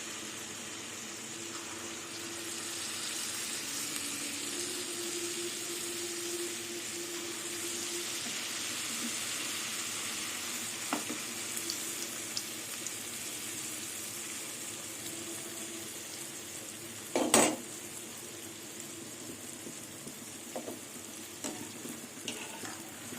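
Palm fruit fritters (taler bora) made from a soft semolina batter fry in hot oil, giving a steady close bubbling sizzle throughout, with a brief louder crackle near the end.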